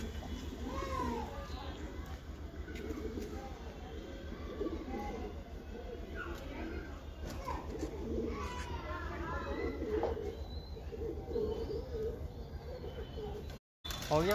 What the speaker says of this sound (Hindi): कितना शानदार कबूतर